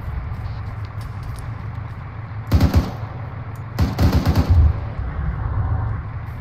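Gunfire during an outdoor airsoft operation alongside vehicles: two loud bursts of rapid shots over a steady engine-like rumble.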